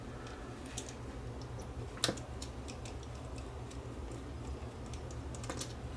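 The infrared cut filter is taken off a Sony GCS1 Betamovie camcorder during a teardown repair, giving faint, scattered small clicks and ticks of handled parts, one sharper snap near the middle, over a quiet low hum with no talking.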